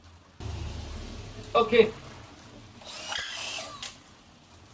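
A DeWalt DCD999 cordless drill boring a hole, a fairly faint whirring burst that rises and then fades, with someone speaking briefly before it.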